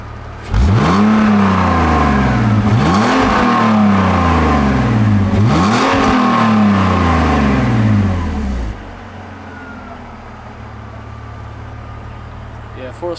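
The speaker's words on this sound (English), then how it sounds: "for a stock exhaust, I think it sounds alright, but I definitely need an exhaust on there just to deepen the tone a bit" Stock-exhaust BMW E46 engine at operating temperature revving three times in rising, falling sweeps, loud and close, then settling to a steady idle.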